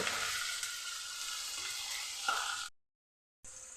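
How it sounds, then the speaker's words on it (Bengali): Ginger and tomato frying in a pan, a steady close sizzle with a brief stir, then a cut to silence before the sizzle resumes. "টমেটোটা আমার ভাজা হয়ে গেছে"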